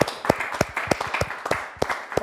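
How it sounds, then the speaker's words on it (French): A few hands clap in a roughly steady rhythm at a live-streamed zero-waste design competition prize ceremony. The claps are distinct and moderately close, with no talk heard. "Oui, on peut l'applaudir."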